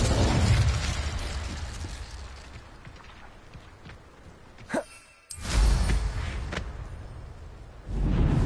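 Incendio fire spell cast in Hogwarts Legacy, a roaring whoosh of flame that fades, breaks off in a brief sharp burst and near silence, then surges back loud and full.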